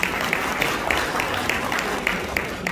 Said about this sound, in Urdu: ایک دفعہ میں چاہوں گا اپنے لیے بھرپور تالیاں بجائیں